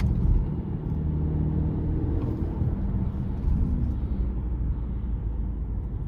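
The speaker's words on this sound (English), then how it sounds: "Really, really good turbo pull. It takes a minute to spool up, but once it does, it's good to go." A 2023 Subaru Ascent Limited with the 2.4-litre turbo engine accelerating under manual-mode shifting, heard as a steady, close low engine rumble with road noise that holds level throughout.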